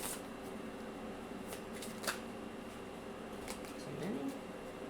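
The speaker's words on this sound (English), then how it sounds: "let's pull some oracle cards" Oracle cards are shuffled by hand in quiet surroundings, giving faint, papery riffles and light flicks that come in scattered bursts.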